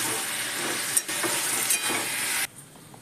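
Water poured into a pan of fried spices for a drumstick-flower chochori hisses and sizzles in loud, steady bursts with brief dips, then cuts off abruptly near the end, leaving a faint simmer.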